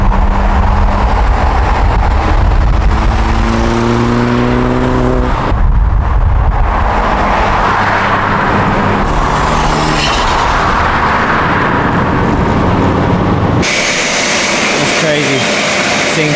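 Audi S3 driving on the road, engine note rising and falling through gear changes as it accelerates, steady and close from inside the car.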